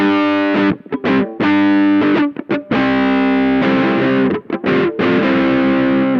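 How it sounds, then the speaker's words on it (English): Fuzzy, heavily distorted Supro Sahara electric guitar through fuzz, playing sustained chords and short riffs, loud and thick, with a few quick gaps. "I imagine that's going to sound really neat with some fuzz on it."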